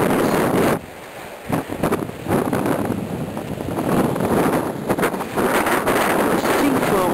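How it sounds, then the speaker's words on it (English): Wind gusts and rain batter the rocky Giant's Causeway coast, a loud rushing roar that dips briefly near the start and then surges again, with a voice speaking at times underneath. "but it's raining right now, and these suckers are slicker than eels"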